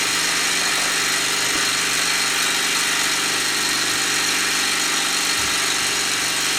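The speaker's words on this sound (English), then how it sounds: "The engine's going more or less flat out" A Mamod Showman's Special live-steam traction engine runs near flat out, giving a steady, dense mechanical whir and hiss with a faint low rhythmic beat throughout, close and continuous with no talk.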